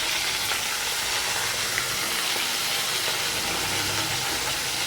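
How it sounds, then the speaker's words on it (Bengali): Tiger prawns frying in hot oil for a mustard prawn dish, a steady, loud and even sizzling hiss that runs without break, with no talking. "এইভাবে আমি সব কটা মাছ একবারে দিয়ে ভালো করে ভেজে তুলে নেব"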